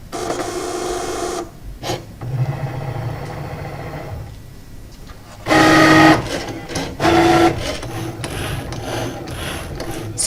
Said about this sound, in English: So Cricut starts first by cutting just the square here.